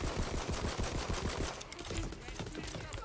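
An enemy gunner fires in the video game Tiny Tina's Wonderlands, a loud, rapid stream of gunshots that crackles steadily, then thins into scattered bursts under faint voices.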